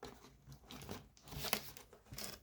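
Crinkly tearing and crumpling of thin plastic packaging around a Godzilla figure, close up, in several short bursts with a sharper rip midway.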